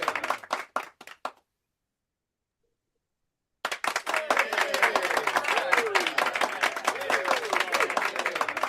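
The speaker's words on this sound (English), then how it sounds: "That clapping sound is coming." Recorded clapping playing repeatedly during an online presentation: a burst of dense applause, a sudden gap of silence, then the clapping returning and continuing steadily, fairly close and clear.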